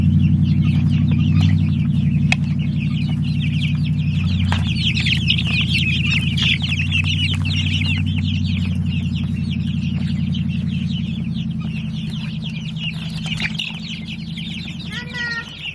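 Chickens cluck and murmur steadily throughout in a homestead coop, a close, busy flock with a constant low hum beneath and occasional higher chirps.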